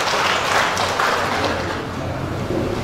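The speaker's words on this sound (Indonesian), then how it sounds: "Kami berikan aplaus kepada DWP seluruhnya." Steady, dense applause from a gathered audience at an anniversary celebration of the DWP women's organisation, with broadband clapping that holds at an even, full level throughout, no speech over it.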